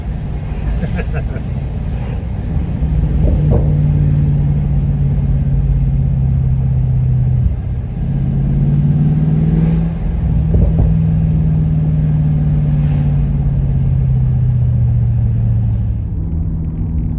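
Jaguar XFR saloon driving through a steep little village, its engine giving a steady low rumble with slow swells in pitch as it pulls, continuous and close throughout.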